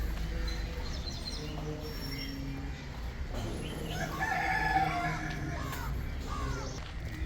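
Roosters crow several times along a path leading to a cemetery, with overlapping calls at middle distance over steady outdoor ambience and other faint bird sounds.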